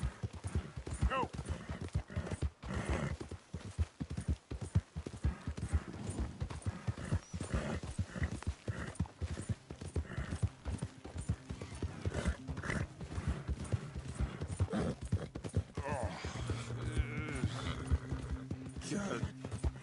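Horse hooves clip-clop steadily in Red Dead Redemption 2, close and loud through the whole stretch, with a brief whinny and a man's speech layered over the rhythm.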